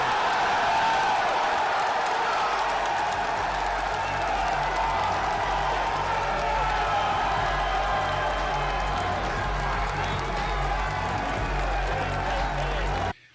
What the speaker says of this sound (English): To a round of applause, everybody